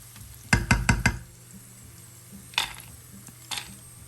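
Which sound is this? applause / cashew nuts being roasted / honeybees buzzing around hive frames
cashew nuts being roasted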